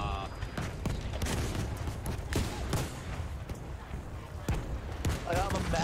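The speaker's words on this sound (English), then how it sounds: "I'm a magnet for artillery." Battlefield V match with rapid gunfire bursts and booming artillery explosions going off around the player, dense and loud throughout, with a player talking over the combat.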